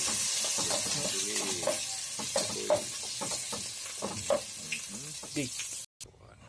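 Corned beef sizzles and fries in a pan with garlic, bay leaf and chili, a steady crackling hiss broken by stirring scrapes, while a person talks over it throughout.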